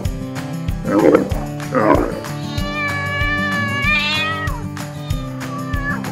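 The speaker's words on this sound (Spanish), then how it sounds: "Gato." A cat meows several times, two rough cries early on followed by a longer wavering meow, close and clear over a looping music bed.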